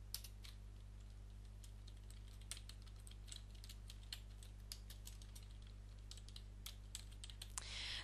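Steady, close-up clatter of keystrokes on a computer keyboard, quick irregular taps running throughout over a low constant hum, no voices.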